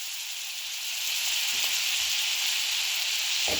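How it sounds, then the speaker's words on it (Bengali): Butter sizzling in a hot wok over a gas flame, a steady bright hiss that swells slightly after the first second and then holds constant, close and alone. "কড়াই গরম হলে এর মধ্যে দিয়ে দিচ্ছি 50 গ্রাম মতো বাটার।"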